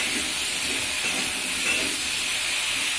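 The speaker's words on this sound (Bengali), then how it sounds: "একটু ভাজা ভাজা হতে দেব।" Bottle gourd fries in a pan, giving off a continuous, close, even sizzling hiss with no voices over it.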